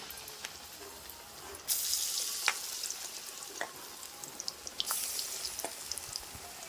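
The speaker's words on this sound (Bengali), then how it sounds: "তেলটা আমার গরম হয়ে গেছে তো এবার বেগুনটা আস্তে আস্তে করে দিয়ে দেবো একটা একটা করে" Eggplant slices for beguni go into hot oil one at a time, each bringing a sudden surge of sizzling over a steady low frying hiss, with faint crackles in between.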